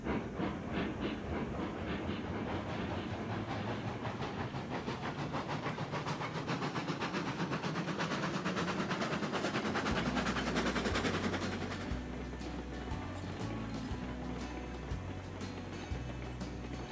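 A train in Railroads Online rolls along the track with steady wheel clatter and rumble, then a low rhythmic chuffing drive sound takes over, continuous and moderately loud without talk.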